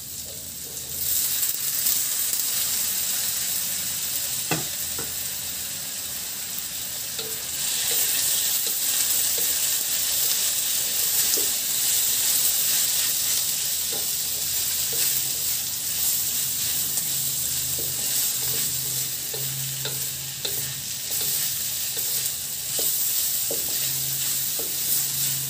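Beef hits a pan of wilted vegetables for sambal goreng, a steady loud sizzle and frying hiss running throughout, with a few sharp clicks of stirring scattered across it and no voices.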